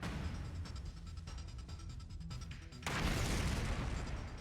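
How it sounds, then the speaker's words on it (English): A video game explosion: after a stretch of low rumbling and scattered crackles, a sudden loud blast bursts in and holds as a dense, roaring wash of noise. "A big kaboom!"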